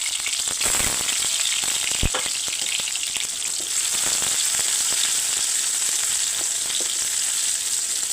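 Chopped onion and garlic sizzle steadily in hot oil while a mutton fat jackfruit curry is being made, a dense, continuous crackle from start to finish with one sharp spatter pop near the beginning.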